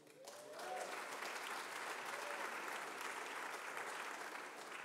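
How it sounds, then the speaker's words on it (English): A reception crowd at the Columbus Museum of Art applauding, sustained clapping that rises quickly and holds steady for several seconds. "You give them a round of applause, please."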